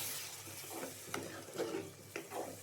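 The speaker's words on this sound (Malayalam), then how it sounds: "മസാലയൊന്ന് യോജിക്കുന്ന രീതിയിൽ ഒന്ന് ഇളക്കുക." Chicken curry masala being stirred in a pan with a spoon, giving soft scraping strokes over a low sizzle, several separate stirs across a few seconds with no talking.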